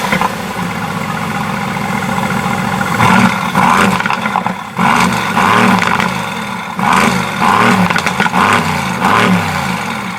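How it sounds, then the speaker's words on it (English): A Mercedes-AMG GTS V8 engine idles with a deep, throbbing burble, then is revved repeatedly in loud bursts that roar and fall back, close and dominant with no talking. "you guys can hear the AMG V8 Symphony"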